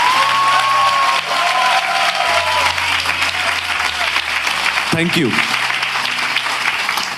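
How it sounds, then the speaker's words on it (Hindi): A church congregation gives loud, dense, sustained applause from start to end, with a short spoken phrase over the clapping near the middle. "क्या हम यीशु के बहाए हुए लहू के लिए एक अच्छी ताली बजा सकते हैं?"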